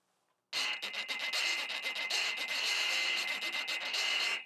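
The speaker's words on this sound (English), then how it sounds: "play the springs, like a scraper, which is the Reco-ing part" Springs on an electric reco-reco are scraped like a scraper in one continuous rasping burst after a brief silence, bright and metallic with a rapid ratcheting texture, close and fairly loud.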